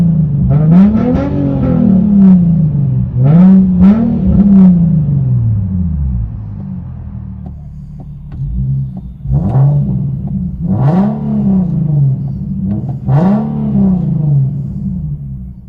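Infiniti M45S 4.5L V8 revved repeatedly from inside the cabin: deep engine note rising and falling through several strong throttle blips, loud and close, no voices.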